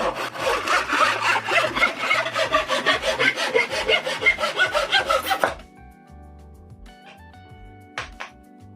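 A handsaw cuts wood along a marking gauge line in loud, close, rhythmic strokes for about five seconds. The sawing then stops, leaving near silence broken by a couple of light wooden knocks.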